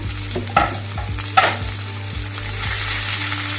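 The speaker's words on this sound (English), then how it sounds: "Next we add one chopped onion and 3 green chillies that we have also slit." Chopped onion and slit green chillies sizzle loudly in a pan with cashews and raisins for vermicelli upma, stirred with a few distinct scraping strokes over a steady frying hiss.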